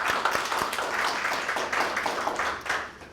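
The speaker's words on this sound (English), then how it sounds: "So a huge round of applause for all of them." Audience applause at the FIL Seoul keynote, a moderate stretch of scattered clapping from a roomful of people, with several sharp individual claps at the start, fairly even and slightly distant.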